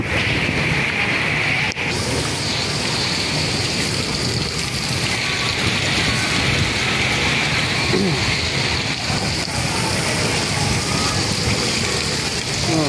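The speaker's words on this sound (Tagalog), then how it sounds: "Di pa rin tumitigil yung lakas ng ulan, no?" Heavy rain roars steadily and loudly throughout, a dense constant downpour with no pauses, during flooding in Manila.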